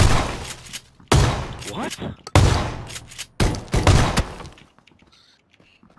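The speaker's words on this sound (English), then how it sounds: "That dude just shot me with a shotgun, he didn't die." Shotgun blasts and gunfire in the battle royale game PUBG: several sharp, loud shots in close succession, with a brief spoken exclamation between them.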